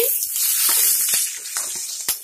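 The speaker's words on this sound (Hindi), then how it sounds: "कुछ सेकेंड मिर्च को घी में मैंने चला लिया है" Green and red chilies, with cumin seeds, sizzle loudly in hot ghee in a pan, a dense continuous frying hiss with a few stirring scrapes, close up and without talk.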